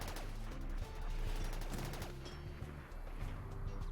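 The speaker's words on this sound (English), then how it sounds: "my autocannon turrets are now firing on the scythers" Autocannon turrets firing in RimWorld: dense, overlapping bursts of heavy gunfire rattling on continuously over a low rumble, loud and close, with no voices.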